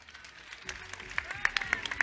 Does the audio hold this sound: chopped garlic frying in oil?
no